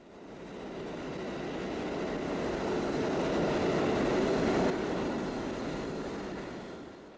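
A real London Underground Bakerloo Line train runs through a tunnel with a steady, loud rumble of wheels on track that swells toward the middle and eases slightly at the end.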